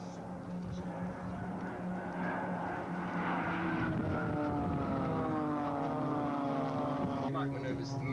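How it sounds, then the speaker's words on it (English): Red Checkers aircraft make a low formation pass, producing a loud droning propeller roar whose pitch slides downward as they sweep past, with a crowd and talk faintly audible underneath. "they're going to be doing a low pass just in front of us"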